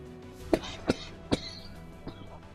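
Three sharp coughs in quick succession, close and fairly loud, followed by a fainter fourth cough-like sound over a steady low background hum.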